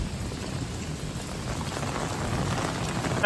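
Steady rain falls outdoors near a roadside, a continuous even hiss of drops that holds at a constant moderate level for the whole stretch, with no voices.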